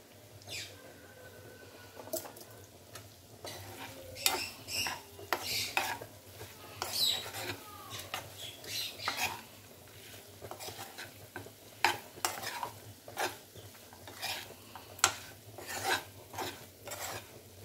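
Chicken fry sizzling in oil in a pan while a spoon scrapes and stirs it with repeated clinks and scrapes against the metal, close up, no speech.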